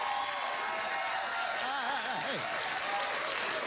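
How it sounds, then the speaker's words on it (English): A late-night talk show studio audience gives a standing ovation, with loud sustained clapping filling the room while a man briefly calls out over it. "Getting a standing ovation"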